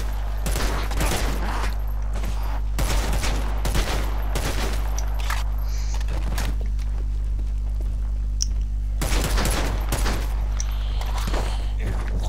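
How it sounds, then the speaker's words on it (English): Repeated loud shotgun blasts from the Dead Island 2 video game, fired in bursts over a constant low game hum, with sharp broadband cracks spaced irregularly across the stretch. "Shotgun."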